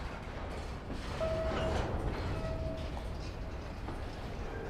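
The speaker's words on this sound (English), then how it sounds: "Lots of train activity here today." A train rumbles past near a scrap yard holding old locomotives, a steady low roar with faint metallic squeals and clanks, no talking.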